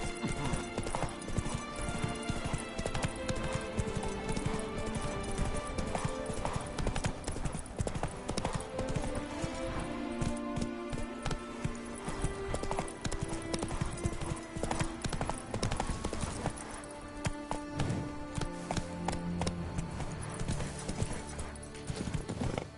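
Roach, the horse in the video game Witcher III: Blood and Wine, gallops with rapid, steady clip-clopping hooves throughout, mixed with game music and effects, with brief spoken lines over the top.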